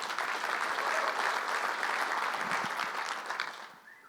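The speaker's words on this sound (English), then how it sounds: "Round of applause." Applause at a flooring industry conference, a full crowd clapping steadily for about three seconds before tapering off toward the end.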